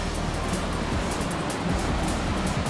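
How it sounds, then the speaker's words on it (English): Waterfall beside the Steep Ravine trail on Mt Tamalpais, heard as a steady, broadband rushing hiss of falling water that holds even and close throughout, with no voices. "Sort of cool with the waterfall."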